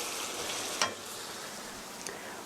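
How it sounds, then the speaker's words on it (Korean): Soybean paste stir-frying in a pan with sugar, a soft steady sizzle with a brief clink of the utensil partway through, quiet and short. "스터 프라이 3분, 3분 정도 볶아주세요"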